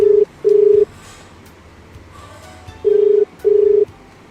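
Touch-tone beeps from a telephone being dialed for a call to a radio quiz show listener, four loud steady tones in two pairs separated by a quiet gap.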